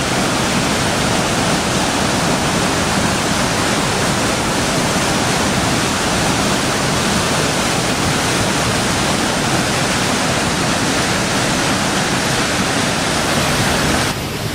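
A waterfall among pine trees sends up spray, its dense, steady roar of falling water filling the whole span at close range with no voices.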